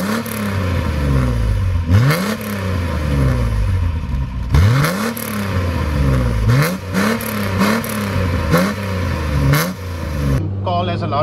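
A Ford Cortina Mk3 V6 engine revs repeatedly, loud and close, each pull rising in pitch through the gears with brief drops between shifts, before a sudden quieter clattering at the end.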